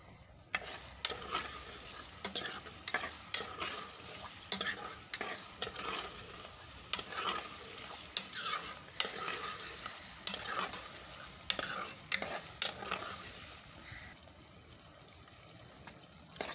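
Onions with garlic and ginger frying in a pan, a soft sizzle punctuated by a regular series of scraping stirs, fairly quiet and close.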